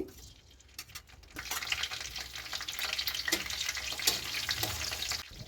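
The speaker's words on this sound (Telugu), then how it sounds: "ఆయిల్ వేడెక్కాక అందులో ముందుగా మనం కట్ చేసి పెట్టుకున్న ఎండుమిర్చి ఆయిల్లో వేసి ఫ్రై చేయాలి" Dried red chillies fry in hot oil in a kadai, a bright, dense crackling sizzle that swells after a quieter opening and keeps going strongly to the end with a few sharper pops.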